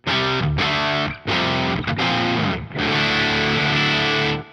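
A driven electric guitar amp tone, moderately overdriven, plays loud sustained chords and notes in a few phrases with brief gaps between them, with no talking.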